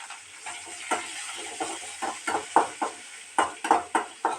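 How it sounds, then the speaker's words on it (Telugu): Onions, curry leaves and seasoning seeds fry in a pan with a low sizzle, punctuated by a rhythmic series of sharp spatula scrapes and clinks against the metal. "ఉల్లిపాయలు కొంచెం వేగనివ్వండి, దోరగా వేగనివ్వండి."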